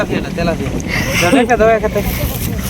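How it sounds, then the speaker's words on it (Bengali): Strong wind blows by a riverbank during family fishing, a steady rushing roar buffeting the microphone, with voices faintly audible beneath it. "আজকে প্রচণ্ড বাতাস"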